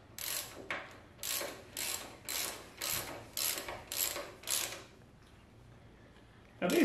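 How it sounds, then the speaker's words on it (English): Rhythmic ratchet wrench clicking as triple clamp bolts are tightened on the fork of a 2000 Honda GL1500C Valkyrie, about eight short bursts of clicks in steady succession, close and clear, then a pause before a final louder clunk. "Now we're going to tighten up our triple clamp bolts."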